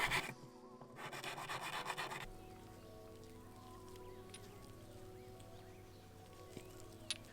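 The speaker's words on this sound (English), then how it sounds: "so I'll just give them a scrub with a wire brush" A wire brush scrubs rusty chrome headset parts from a vintage Peugeot road bike. A short burst of close, gritty rasping strokes lasts about two seconds, then gives way to a quiet room.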